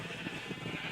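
Sheep bleating in a pen in Minecraft, a short wavering bleat close by, heard alone.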